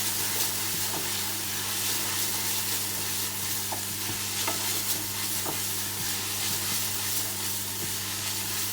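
Pumpkin and butternut squash soup stirred steadily in a pot, a continuous soft churning swish with faint clicks of the utensil over a low constant hum, close and unbroken throughout.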